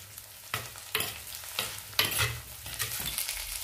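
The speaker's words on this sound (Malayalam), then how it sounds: "ഇതിലേക്ക് ഇനി മുറിച്ച് വച്ചിരിക്കുന്ന മുരിങ്ങക്ക കൂടി ചേർത്ത് വഴറ്റിയെടുക്കാം" Onion and cut drumstick sautéing in a pan for a fish curry: a close, steady sizzle with a few sharp stirring scrapes and clinks, and no voices.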